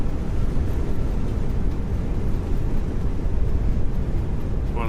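An A320neo in Microsoft Flight Simulator roars with its thrust reversers just after touchdown, a loud, sustained broadband rumble that holds steady throughout with no talking.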